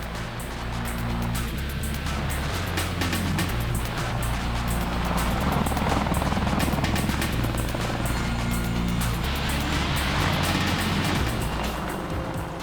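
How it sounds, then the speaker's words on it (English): An Apache attack helicopter flying, with a steady loud rotor and turbine roar that holds throughout and never fades or pauses. "The Apache aircraft was designed to be a heavy attack platform for the Army"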